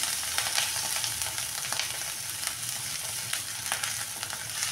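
Ginger and green chili fry in a little oil with asafoetida for a kachori filling, making a soft, even sizzle with light crackles throughout, quiet and with no voices.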